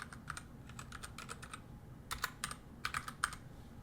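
An IP address is typed on a computer keyboard in quick, uneven bursts of crisp key clicks, close and fairly quiet, with short pauses between groups of keystrokes.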